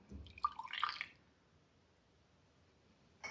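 South Indian filter coffee decoction drips through a metal filter, with a couple of soft, wet drips and a brief liquid splash, then near silence, close and quiet.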